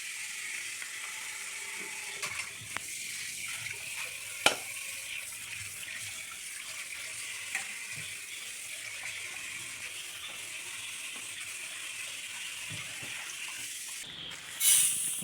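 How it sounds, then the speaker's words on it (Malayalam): Tap water runs in a steady hiss for a long stretch while meat is washed under it, broken by occasional soft clicks and knocks, with a brief clatter near the end. "മന്തി എല്ലാം കഴുകി വൃത്തിയാക്കുന്നുണ്ട്"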